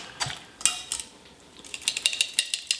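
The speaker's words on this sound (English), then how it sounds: "now we're just gonna stir it up here to strain out all the juices inside" Duck juices are stirred and strained in a pan, producing close, irregular metallic scrapes and clinks in quick bursts with a short pause in the middle.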